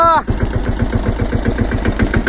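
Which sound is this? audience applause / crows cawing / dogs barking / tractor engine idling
tractor engine idling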